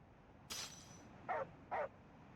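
Umbra, the dog in Final Fantasy XV, gives three short, faint yips in quick succession, the first slightly higher and the last two evenly spaced.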